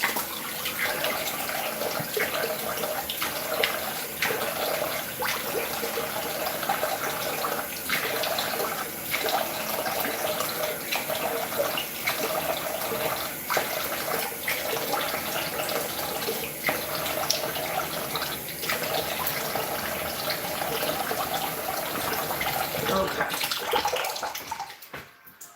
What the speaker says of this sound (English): Do you guys make a mess when you wash your face?